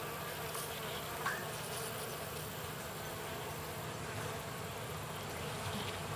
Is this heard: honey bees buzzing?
yes